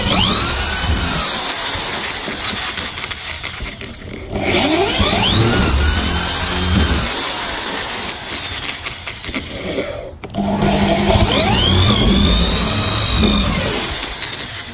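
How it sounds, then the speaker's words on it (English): A power drill whines and bites in three bursts, drilling three small holes in the side of a container, pitch rising and falling with each short pause between holes, loud and close. "Then drill three small holes on the side."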